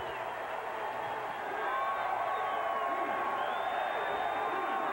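A 1997 ETSU versus Appalachian State college football stadium crowd roars steadily from a distance, swelling louder partway through as a touchdown drive nears the end zone.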